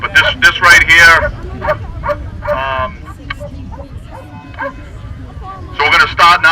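Barking from a police K9 dog at an outdoor community safety event, a few sharp barks near the start and again at the end, heard over crowd chatter and speech.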